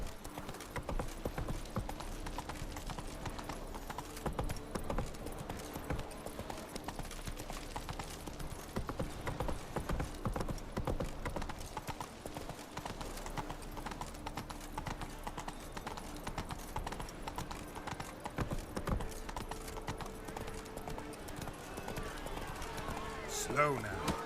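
Geralt's horse Roach gallops in The Witcher 3, a steady stream of hoofbeats running for the whole stretch under a dense game soundscape of music and effects, with voices talking over it.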